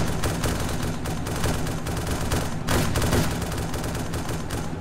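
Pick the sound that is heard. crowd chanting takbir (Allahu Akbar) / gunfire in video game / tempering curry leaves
gunfire in video game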